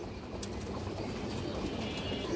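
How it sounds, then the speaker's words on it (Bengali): Pigeons in a loft coo softly amid rustling and a quick burst of wing flapping, faint and close, with no voices. "খুবই সুন্দর কবুতর, বেশ চড়া পাখা"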